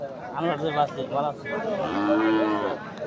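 Cattle moo loudly and repeatedly at a rural cow market in Bangladesh, the calls overlapping with nearby chatter from people bargaining.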